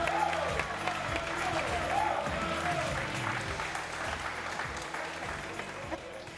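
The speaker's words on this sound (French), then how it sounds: "On peut applaudir pour les Béninois, s'il vous plaît?" An audience at a televised contest applauds, a dense patter of many hands with some crowd noise, fading gradually. A voice talks over it partway through.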